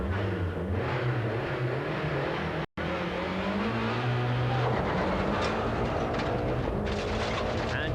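A 1990 Lancia works rally car driven by Alex Fiorio on a rally stage gives a loud, close engine note with rising and falling revs and gear changes, briefly cut by a gap, with road and wind noise throughout.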